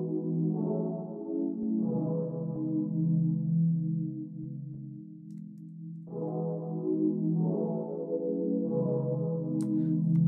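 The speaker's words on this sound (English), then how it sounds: "I just EQ'd this down to where it's just the low end, so it's more like a pad" Dawn Breeze piano preset equalized down to only its low end so it works as a soft pad with effects, sustained muffled chords shifting every couple of seconds, smooth and steady throughout.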